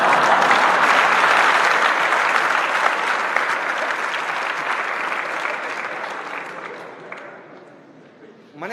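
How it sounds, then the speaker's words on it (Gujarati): Loud, dense audience applause during a spoken discourse, a steady wash of many hands clapping that slowly thins and fades toward the end, with no talking over it. "તમે એક બાજુ પીડા ભોગો છો અને પાછા તાળી પાડો છો"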